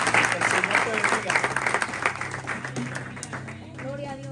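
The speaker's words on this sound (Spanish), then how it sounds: "Dan un aplauso, ponte de pie." A church congregation applauds, with dense clapping filling the room that thins out toward the end while voices talk over it.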